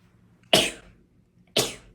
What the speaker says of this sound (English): I don't think I've ever sneezed, well, in a YouTube video before.